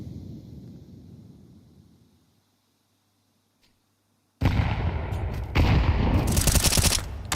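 Grenades burst in a Counter-Strike pro match between HEROIC and BIG, a quiet lull giving way to a loud, sudden wall of blasts and crackling gunfire that swells again near the end.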